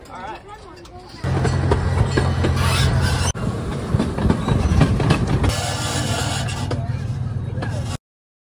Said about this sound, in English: We're going on the train.